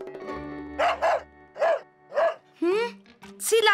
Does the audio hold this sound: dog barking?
yes